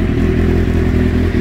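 A 1990s sport bike fitted with a full Muzzy exhaust idles and revs steadily nearby, a loud, continuous low rumble with an even mechanical pulse and no talking.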